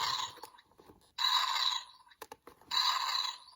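A Spin Master Blue Beetle Battle-Mode 12-inch action figure gives off electronic toy sounds in short bright bursts, separated by clicks of the plastic mechanism, close and fairly quiet.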